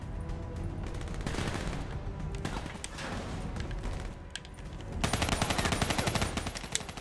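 Rapid bursts of gunfire from Black Ops 3 crackle in dense, continuous volleys, ending in a tight machine-gun-like stream of shots over busy game noise.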